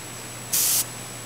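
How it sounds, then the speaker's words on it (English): Airbrush fired in one short, sharp hiss of air lasting about a third of a second, close and loud against a quiet background hum. "all you're doing is taking a little short blast"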